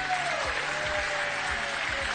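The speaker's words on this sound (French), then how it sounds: "Applaudissez Maxence et Sylvain." Steady applause from a French TV game show studio audience during Mot de passe, filling the short stretch evenly at a loud, constant level with no voices on top.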